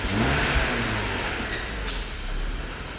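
A 1994 BMW wagon engine runs steadily with a low rumble, rising briefly in a rev, with a short hiss partway through.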